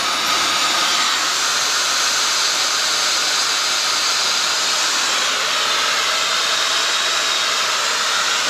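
A Dyson Airwrap hair styler runs at full heat and full airflow, a loud steady whoosh of blowing air with a constant high hiss that holds unbroken throughout, with no voices.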